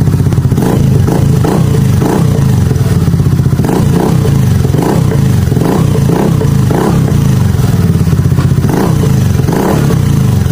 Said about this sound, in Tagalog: Ganong tunog ang mai-experience nyo kapag nagkabit kayo ng aftermarket na muffler